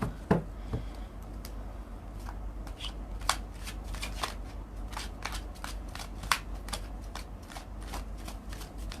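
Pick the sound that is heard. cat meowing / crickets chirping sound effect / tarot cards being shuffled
tarot cards being shuffled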